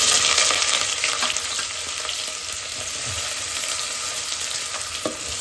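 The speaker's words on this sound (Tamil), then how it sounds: "இப்போ வெங்காயம் போட்டுக்கலாம்." Onions sizzle and fry in ghee in a pan for ghee rice, a steady close crackle with occasional scraping taps from stirring and no talking.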